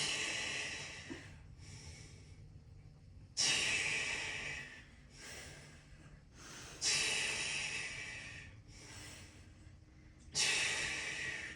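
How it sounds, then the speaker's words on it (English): Heavy, close breathing during an at-home Pilates workout: strong rhythmic exhales repeat roughly every three seconds, with softer breaths in between, and no talking. "Breathing."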